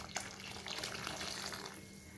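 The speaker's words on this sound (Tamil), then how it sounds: "புளி தண்ணி சேர்த்த பின்னாடி கொஞ்சமாக தண்ணி சேர்க்குறேன்" Faint, steady trickle of water being poured into a pot of tamarind curry, a soft continuous splashing that stops near the end.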